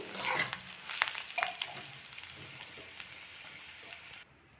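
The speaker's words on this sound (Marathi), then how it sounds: "आता भाजलेला रवा भाजलेल्या रव्याला घेऊयात तेलामध्ये परतून" Roasted semolina is stir-fried in oil while making upma, producing a crackling sizzle and scraping stirs that start fairly loud and then settle into a fainter, steady frying hiss before cutting off.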